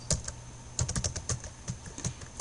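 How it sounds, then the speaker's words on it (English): Quick, uneven keystrokes on a computer keyboard, close and fairly clear, entering a short word into software with a low steady hum underneath and no talk. "I'm going to type in comfort"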